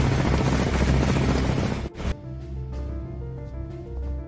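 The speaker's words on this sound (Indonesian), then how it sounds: "mereka pergi ke Serbia dengan menaiki helikopter" A helicopter flying, loud steady rotor roar filling the first two seconds before cutting away to a quieter scene with music underneath.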